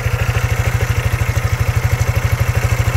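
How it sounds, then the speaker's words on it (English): A Maxsym 600i motorscooter engine idles close by after oil maintenance, a steady low chugging pulse with even, rapid firing beats and a light mechanical clatter, running alone with no voices. "I think it's time to run the engine for a while and then to check again the oil"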